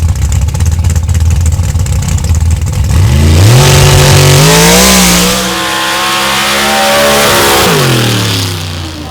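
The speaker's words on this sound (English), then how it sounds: "Kelly Albertson out of Scottsburg, Indiana, in this beautiful blue Chevrolet Colorado" A Chevrolet Colorado truck engine at a drag race sits under crowd noise, then revs up hard and climbs through rising pitch, holds a loud high drone, dips, and rises again.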